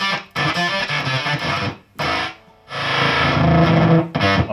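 Hendrix-inspired guitar effects pedal from Prescription Electronics giving a game-like 8-bit tone, loud and dense, with two sustained bursts broken by brief drops to near silence and a short final stab.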